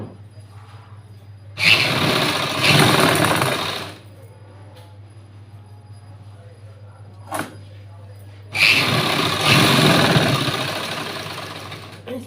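A sewing machine stitches a seam on a button-front blouse in two loud bursts of about two and three seconds, with a steady hum and a brief click between them.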